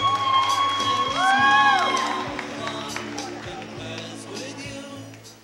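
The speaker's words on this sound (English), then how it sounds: "a big round of applause out there for Candle 7" A party crowd at a bat mitzvah cheers and whoops, with a few claps and shouts that fade over several seconds, while an amplified voice speaks over them.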